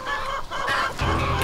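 Close, loud clucking from chickens in the Call of Juarez Gunslinger video game, a continuous run of throaty clucks and squawks lasting a second and a half.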